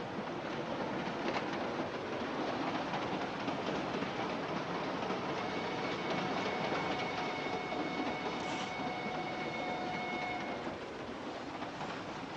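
A moving passenger train in a 1946 thriller gives a continuous rumbling roar with faint rhythmic clatter and a few thin tonal whines, steady and moderately distant, with no talking.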